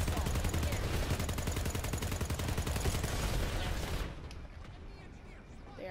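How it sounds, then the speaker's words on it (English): Rapid automatic gunfire rattles continuously in the PlanetSide 2 video game, a loud, dense burst of shots lasting about four seconds before cutting off to quieter background game noise. "Alright, just shoot up some people."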